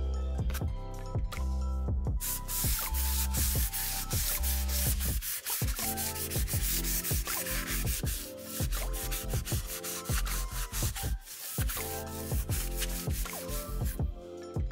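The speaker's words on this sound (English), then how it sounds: "I'm gonna move over to the super fine sponge." A super fine sanding sponge rubs back and forth over the finish of a bass guitar neck in quick, regular strokes, close and continuous, with brief pauses between passes.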